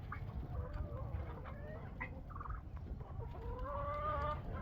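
Chickens cluck and murmur inside a barn after feeding, with several soft overlapping calls over a low rumbling background, fairly close and moderate in level, with no talking.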